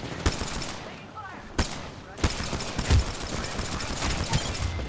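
Rapid pistol shots crack out in Apex Legends, several sharp reports in quick bursts with brief gaps, loud and close over game background noise.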